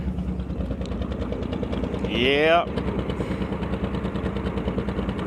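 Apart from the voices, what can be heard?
1964 Chevrolet Impala wagon engine idling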